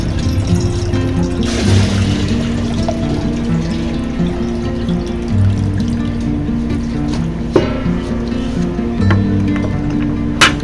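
Fresh water filling from a pipe into a container at home, a steady hissing trickle running the whole time with no talking.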